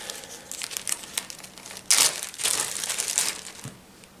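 Paper slips for a sticker-sheet giveaway rustled and crinkled by hand during a draw, a continuous close crackling with a louder burst of crumpling partway through.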